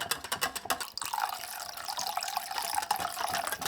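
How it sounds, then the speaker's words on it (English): Water pours and splashes into a bowl up close, a continuous trickling gush after a few brief knocks at the start. "Add step by step about 500 milliliters of water."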